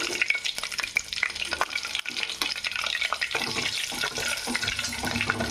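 Onions and green chillies frying in a pan for a country chicken curry give a close, busy sizzle broken by repeated spoon scrapes and stirring knocks, with running water also audible.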